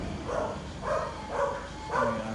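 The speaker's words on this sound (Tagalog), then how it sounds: "May aso din sa kapitbahay." A neighbour's dog barks four times at an even pace, fairly distant and faint against quiet background noise.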